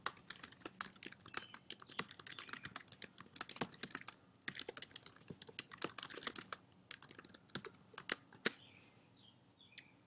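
A question is typed on a computer keyboard in a steady, close patter of light clicky keystrokes with brief pauses, ending in a few sparse taps.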